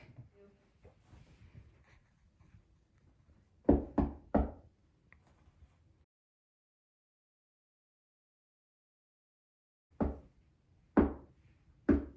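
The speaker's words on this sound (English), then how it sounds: "He's going to knock." Knocking on a wall in a hotel, two separate bursts of three sharp knocks each, with a long silent gap between them and faint murmuring voices early on.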